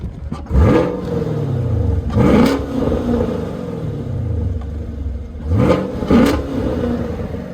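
A 2017 Chevrolet Camaro SS V8 in neutral blips its throttle twice, each rev rising sharply to a roar and falling back into a steady, rumbling idle, loud and close with no talking.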